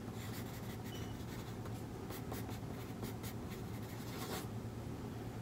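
A pencil scratches across paper as a name is written on a final copy for a classroom art project, a soft, quiet run of short scratchy strokes with no talking.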